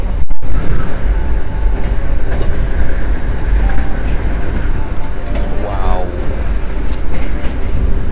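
The Gajahwong executive train from Jakarta to Yogyakarta runs on rails with a loud, continuous rumble and faint clickety-clack from inside the carriage, as a passenger briefly exclaims at the start.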